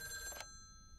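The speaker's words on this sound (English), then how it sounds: "Phone is ringing." A telephone bell in the video game Lake, one sustained ring that cuts off partway through, followed by a faint lingering tone, quiet and close with no voices.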